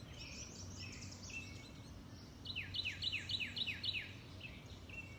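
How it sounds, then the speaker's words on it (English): Several birds sing outdoors in a natural setting, with a run of repeated bright descending chirps in the middle over a steady low background hum, moderately distant and fairly quiet. "As you inhale, take in the sound of the bird song."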